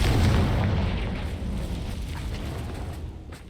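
A Confringo fire spell blast in Hogwarts Legacy, one loud booming burst at the start whose roar slowly decays into a rumbling, crackling tail.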